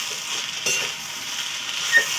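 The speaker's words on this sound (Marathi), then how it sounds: "आता इथलं पटपट आपण मिक्स करून घेऊ" Noodles being stirred quickly in a hot pan, a soft continuous sizzle with scraping and stirring strokes and a light utensil clink near the end, close and without speech.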